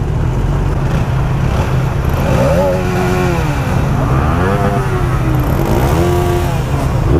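A motorcycle exhaust rumbles close by, its deep engine drone rising and falling through several rev sweeps over steady road and wind noise.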